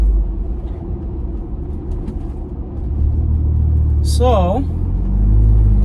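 A Ford Bronco engine with a new tuning program rumbles low and steady, its revs building and growing louder toward the end, while a voice speaks briefly over it and a short whistling squeal rises partway through.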